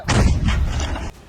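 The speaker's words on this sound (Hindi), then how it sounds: "इसके बाद एक सैनिक का इशारा मिलते ही तोप से हमला कर दिया गया।" Russian army artillery cannon fires during the fighting for Mariupol: a single loud, close blast with a rumbling tail that fades over about a second.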